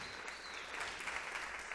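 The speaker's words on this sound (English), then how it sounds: "Let's give the entire crowd a big round of applause for this wonderful giving moment" Crowd applause at an arts celebration event, a faint, steady patter of many hands clapping together in a room, with no voices over it.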